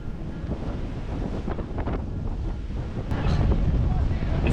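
Wind buffets the microphone on a beach at the Hilton Cancun Mar Caribe as waves wash in, a steady roar that swells louder toward the end.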